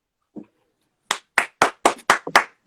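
Six sharp hand claps in a steady rhythm from a small audience at home after a poetry reading, preceded by a faint short sound, close and clear with no talking.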